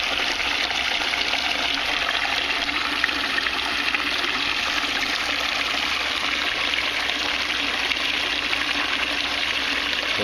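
Steady, loud rush of water pouring into an aquaponics tank, the inflow spilling over the top in a continuous broadband splash with no pauses.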